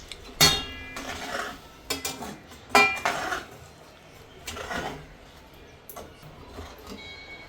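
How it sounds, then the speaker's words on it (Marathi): Mung bean flour being roasted in ghee in a pan on low heat: a spatula scrapes and clanks against the pan in a few sharp, close strokes, followed by softer stirring. "असं चांगलं हे पीठ आहे ना आपल्या मुगाचं मस्त असं भाजायचं"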